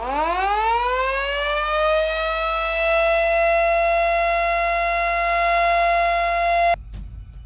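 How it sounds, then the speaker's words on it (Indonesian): A loud alarm siren wails during a school stage performance, rising quickly to a steady sustained tone that holds for several seconds before cutting off abruptly. "Tiba-tiba sirine alarm berbunyi."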